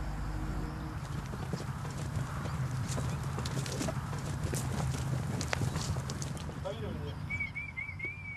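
Camargue horses trotting with steady clip-clopping hooves on ground, a continuous busy rhythm at moderate distance, with a bird chirp near the end.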